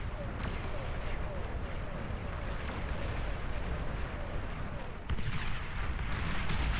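Artillery pounds in an 8v8 match of Beyond All Reason, a dense, continuous roar of booms and rumbling impacts that swells sharply near the end, with a voice talking over the barrage.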